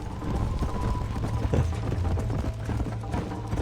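Horse hooves clip-clop in a quick, steady gallop in the Red Dead Redemption video game, loud and close, with a brief bump of another sound midway.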